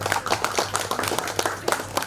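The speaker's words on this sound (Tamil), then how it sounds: "அதற்கான பாராட்டுதலையும் நமது கைத்தட்டல் மூலம் தெரிவிக்க அழைக்கின்றேன்." Audience clapping in appreciation during a talk on online fraud, a short burst of brisk, uneven handclaps heard close and fairly loud, with no talk over it.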